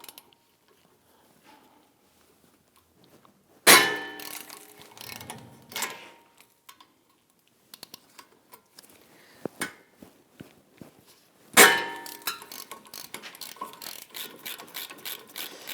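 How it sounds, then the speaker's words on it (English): A ratchet works two 18mm caliper bracket bolts loose on a 2009–2017 Volvo XC60 during a front brake job, with sharp cracking breaks followed by quick runs of clicking pawl ticks, close and distinct against near silence. "There are two 18mm bolts. I'm going to go ahead and loosen and remove these."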